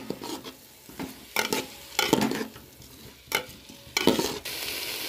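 Dal, rice and potato pieces fry in oil in a pot while a spatula stirs them, giving bursts of scraping and sizzling at irregular intervals over a lower steady crackle.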